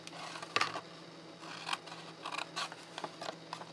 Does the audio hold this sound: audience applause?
no